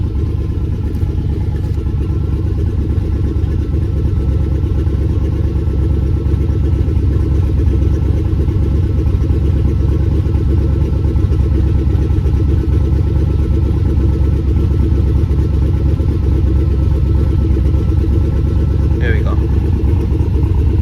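A twin-turbo LS V8 in a G-body Oldsmobile Cutlass idles steadily and a little rich while still cold after a Bosch 210 injector install, a low continuous rumble that holds unchanged for the full length with no revs.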